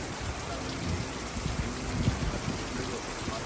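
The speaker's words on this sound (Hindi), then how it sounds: "बारिश देखो क्या गजब बारिश हो रही है।" Heavy rain falls steadily in the Dhikala grassland of Jim Corbett National Park, a dense continuous patter, with faint low sounds beneath it.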